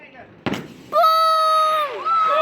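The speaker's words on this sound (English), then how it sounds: "There was a firecracker who just turned around and fell on us." A firecracker goes off with a sharp single pop at a backyard fireworks display, followed by loud, sustained high-pitched screaming from nearby people.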